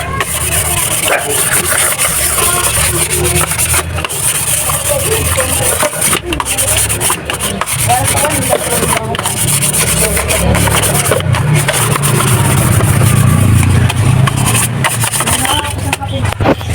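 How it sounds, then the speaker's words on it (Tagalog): Continuous abrasive scraping of sandpaper rubbing back and forth on the cylinder head of a 2015 Toyota Avanza engine, loud and close, without pause throughout. "liha lang yan, liha"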